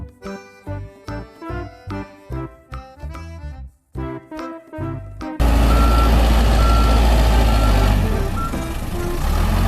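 An excavator truck backs up with a steady train of loud, regularly pulsing reversing beeps, then broad engine rumble and noise take over in the second half.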